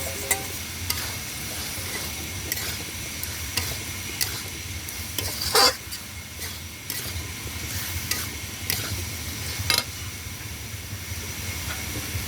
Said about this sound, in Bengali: আমি কুমড়ো আলুটাকে যে ভেজে রেখেছিলাম দিয়ে দিলাম, একটু কষিয়ে নেব।